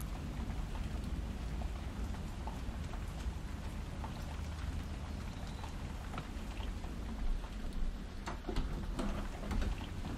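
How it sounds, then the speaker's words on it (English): Steady rain pours down in a continuous hiss, with scattered drops tapping on surfaces. No voices. "I didn't realize it even started raining."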